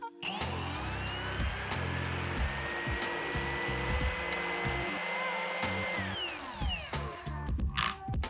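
A Procraft brushless corded angle grinder spins up and runs steadily for several seconds with a high, even whine and a faint rattle, then cuts off and winds down near the end. No one speaks.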